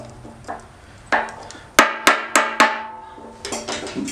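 Metal driveshaft clips are struck in a series of sharp, ringing metallic smacks, with a few quicker hits and then a cluster of lighter taps, close and bright, with no talking.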